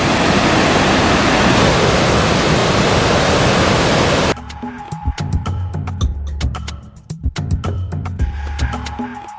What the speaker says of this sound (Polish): wodospad Iguazu to jest generalnie największy wodospad na świecie